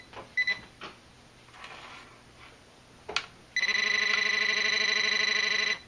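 Garrett TRX pinpointer metal detector switches on with a few soft clicks and short blips, then a loud steady buzzing tone sounds continuously for over two seconds, close by.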